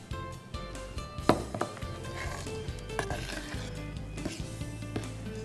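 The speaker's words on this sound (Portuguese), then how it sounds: "Vou adicionar aqui e misturar com a colher." Spoon stirring cream into a powdered-milk pie mixture, soft scraping and light clinks against the bowl with a wet squishing texture, quiet and close amid faint kitchen background.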